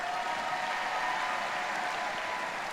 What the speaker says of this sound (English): You can clap for Dr. Townsend, it's all right.